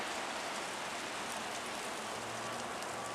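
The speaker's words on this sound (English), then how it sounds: "and it's raining." Steady rain falls continuously on an early, cold April morning, a soft even hiss with faint patter of drops on surfaces, no voices.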